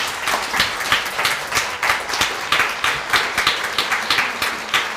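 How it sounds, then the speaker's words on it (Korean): A church congregation claps to welcome a newly married couple at a Sunday service, a steady round of applause with rhythmic clapping throughout, moderately loud and without speech. "박수로 좀 맞이해 주세요."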